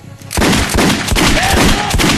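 A pistol fires in the post-apocalyptic shooter Metro Last Light: a loud, close, rapid run of shots with no gaps, following a brief quiet start.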